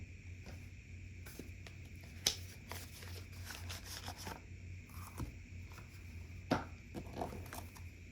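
Tarot cards being shuffled and pulled by hand, soft quiet papery slides and taps in an irregular rhythm, with a couple of sharper snaps, close and faint over a low steady hum.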